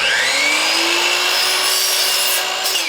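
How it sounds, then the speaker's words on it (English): A miter saw cuts through wood trim and baseboard, producing a loud, close, steady whining cut with a sweeping high tone. Nobody speaks. "A miter saw to some"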